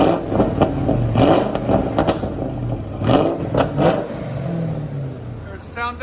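A 2006 Lincoln Town Car's 4.6L V8 with straight-pipe true dual exhaust, muffler delete and 4-inch tips revs up and down loudly nearby in repeated rising and falling blasts, with a rattling burble between pulls.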